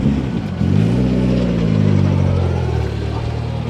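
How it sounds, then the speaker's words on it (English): A rally car engine at a motoring hub revs up from idle into a loud, sustained roar, holding high before easing back down. It sounds close and sits alone without talk. "we've got a rally car"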